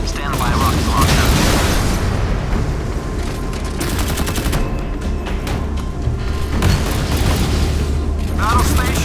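Warship weapons firing in a naval battle, a dense, continuous roar of rapid gunfire, booms and launch blasts, loud and sustained throughout with a voice briefly over the din.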